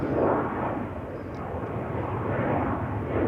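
A KLM Boeing 737-800 bound for Bucharest takes off from Schiphol's Polderbaan runway, its engines a steady, loud broadband roar up close that holds level throughout with no talk.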